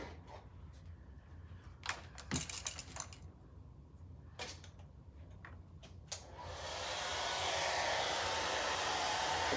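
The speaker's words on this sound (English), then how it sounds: "I have to use my blow dryer." A blow dryer used to heat-set stain on a wooden charcuterie board: a few light clicks and knocks, then the dryer switches on into a steady, loud rushing whoosh that continues to the end.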